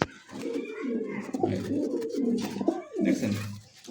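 Domestic and foreign pigeons at a pigeon market coo close by, in deep, rolling, throaty calls that repeat and overlap over a faint background murmur.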